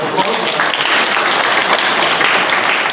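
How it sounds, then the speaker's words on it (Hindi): An audience at a Sarna community gathering claps loudly and continuously, a close, dense patter of many hands with voices mixed underneath. "ताली बजाओ।"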